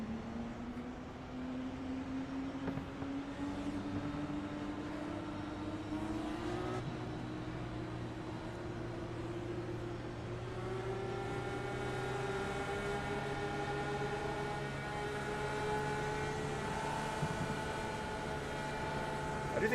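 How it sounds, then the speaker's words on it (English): Racing car engines drone and rise in pitch in a racing video game set at Lime Rock, several engine tones overlapping and climbing steadily as the cars accelerate over the whole stretch. "I do think I hear other people's cars"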